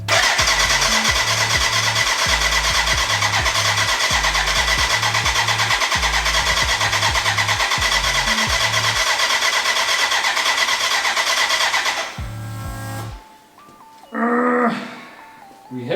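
BMW K100 cafe racer motorcycle engine cranking repeatedly on the starter, a loud rhythmic churning whir that runs for about twelve seconds, then cuts off, followed by a brief restart burst, recorded close with no talk.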